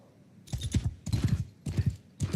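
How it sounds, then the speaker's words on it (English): Horse hooves clip-clop in bursts of quick paired beats from a saddle horse in a Total War game, moderately close and fairly clear. "It's just like the shittiest saddle horse that you can get."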